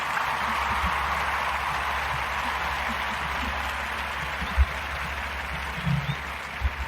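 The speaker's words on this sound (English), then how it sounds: "Here's a round of applause for your yearns." A steady wash of crowd applause plays as a sound effect on a New Orleans Pelicans sports podcast, sustained clapping with no break.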